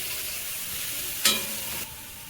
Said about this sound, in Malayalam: ബീറ്റ്റൂട്ടും കൂടെ ചേർത്ത് നന്നായിട്ടൊന്ന് വഴറ്റി, ബീറ്റ്റൂട്ടിൻ്റെ ഒന്ന് സോഫ്റ്റ് ആവുന്നവരെ ഒന്ന് വഴറ്റിയെടുക്കാം